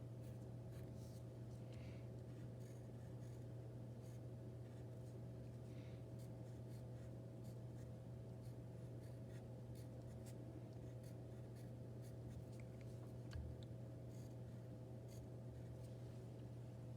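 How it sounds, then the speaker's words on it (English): A pencil scratches and strokes steadily on paper while drawing a James Rizzi-style cityscape, with soft, faint, continuous scraping over a low steady hum and no voices. "now I have everything drawn in pencil the way I like it"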